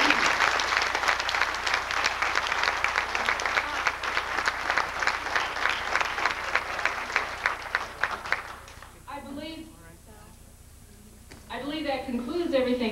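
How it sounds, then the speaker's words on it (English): At the closing session of a space development conference, a large hall audience gives a long, loud round of applause. The applause fades after about eight seconds and speech takes over. "I'd like to have another big round of applause for our CAP"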